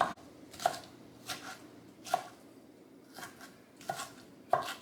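A knife roughly chops strawberries on a cutting board, with sharp chopping thuds at an irregular, unhurried pace, close and clear.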